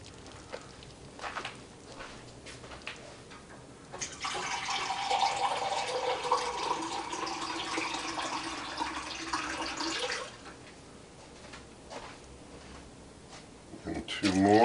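Water pours steadily into a multicooker pot for about six seconds, a rushing, splashing stream, with quieter handling sounds before and after.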